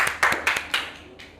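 Students clap their hands indoors in a classroom: a quick cluster of sharp claps, then a few softer ones trailing off, close by, with no talking.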